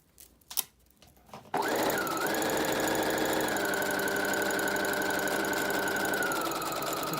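After some brief handling noises, a sewing machine starts stitching a fabric seam with about a 5/8-inch allowance, a fast steady mechanical whir that runs without a break to the end.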